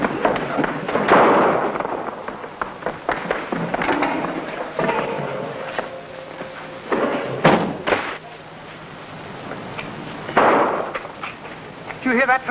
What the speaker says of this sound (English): That was the sound of shots.